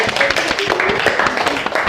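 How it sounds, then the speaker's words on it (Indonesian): A short burst of hand clapping from a classroom audience applauding a student group after its presentation, a quick patter of claps with a little voice mixed in. "Tepuk tangan buat kelompok 1"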